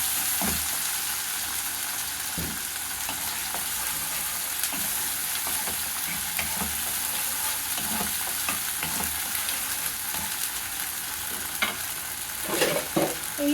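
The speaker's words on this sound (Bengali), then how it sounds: "পেঁয়াজ আদা রসুনের একটা পেস্ট করা ছিল, আমি সেটা 3 চামচ মতো দিয়ে দিলাম। এবার এটাকে একটু নাড়তে থাকবো।" Onion, ginger and garlic paste frying for a yogurt prawn curry sizzles steadily in the pan, with soft, irregular scrapes and clicks as it is stirred throughout.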